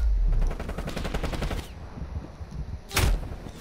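Call of Duty Cold War gunfire: a rapid automatic burst rattles for over a second, then a short pause before a single loud shot, with a brief spoken exclamation in between.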